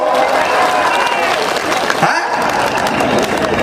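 A large crowd at an outdoor Indian political rally for Navjot Singh Sidhu claps and cheers, a loud, continuous wash of massed clapping and crowd noise with no break.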